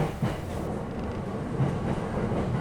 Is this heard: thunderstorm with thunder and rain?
no